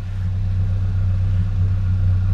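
A Ford Ranger engine fitted with a new Dynomax exhaust rumbles with a deep, steady low drone, holding a constant idle-like tone throughout with no talking.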